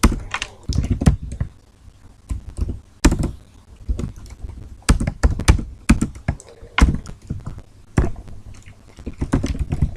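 Typing code on a computer keyboard, loud close key strikes in uneven bursts of rapid clacks with brief gaps, the keys heard alone.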